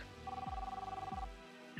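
A telephone rings as a call is placed to Natasha Chalk, wife of Hooper, in Yokosuka, Kanagawa Prefecture, Japan: one long warbling ring tone lasting about a second, with low thumps underneath and no talk.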